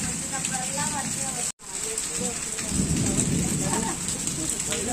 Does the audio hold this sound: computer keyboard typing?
no